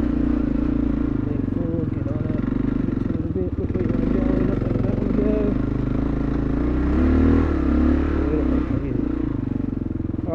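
A KLR650 dual-sport motorcycle labors up a steep gravel hill in first gear, its single-cylinder engine thumping steadily and close, with gravel clatter and scraping throughout.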